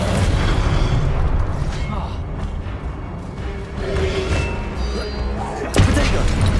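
A Descendo spell slams down in Hogwarts Legacy: rumbling, crashing booms build across the stretch and end in a sharp, loud impact near the end, with a voice speaking over the noise.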